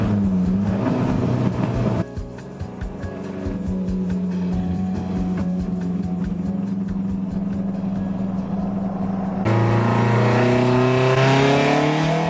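A Renault 12 Gordini car engine runs steadily and loud, rising and shifting in pitch as it revs, with a sharp change in tone near the end.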